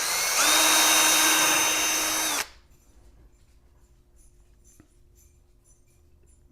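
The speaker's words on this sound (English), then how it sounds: "My poor little shop dog does not like the sound of a drill." A power drill whines loudly and steadily for about two seconds, then cuts off, leaving a quiet room with faint clicks.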